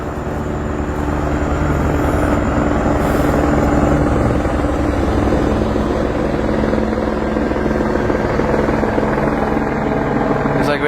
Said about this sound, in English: Looks like we have a police helicopter above me.